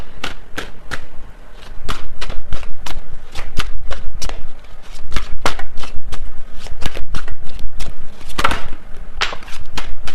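Tarot cards shuffled by hand in a rapid run of crisp riffles and slaps, about twenty sharp bursts in steady rhythm, close and loud with no talking.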